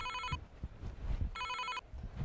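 A telephone rings in two short bursts, separated by a pause, in a comedic skit about a village theft. The ringing is clear and fairly loud over low background rumble.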